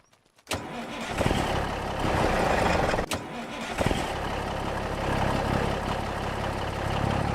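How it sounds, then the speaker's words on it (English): A loud farm tractor engine, heard on a morning farming run, starts with a sharp burst of noise and then runs steadily and close. A brief dropout comes around three seconds in, and the engine roars on without pause after it. "Damn, that tractor's loud."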